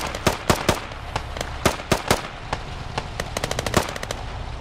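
Automatic gunfire in the infantry shooter Squad: loud, close bursts of rapid shots with short pauses, ending in a quick rattling string, over a low ambient rumble.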